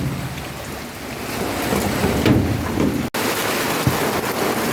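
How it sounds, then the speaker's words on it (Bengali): Heavy rain pours in a steady, dense wash of noise that swells slightly midway, with a brief dropout and a faint knock near the end. "ওদিকে বৃষ্টিও হচ্ছে প্রচুর"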